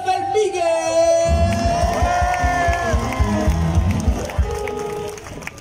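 A crowd at a live orchestra dance show in Valras-Plage cheers, whoops and applauds for drummer Elijah, loud and sustained, with sung or shouted tones over steady clapping.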